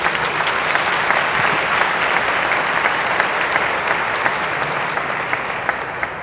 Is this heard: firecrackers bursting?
no